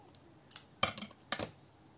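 A few short, crisp snips from scissors cutting a pink craft piece, about three quick cuts, close and fairly quiet against a silent background.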